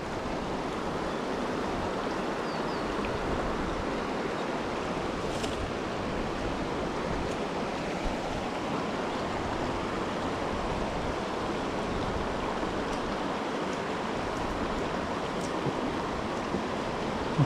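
Strong river current rushing steadily past, a dense continuous broadband wash of flowing water heard close and unbroken throughout, with no voices.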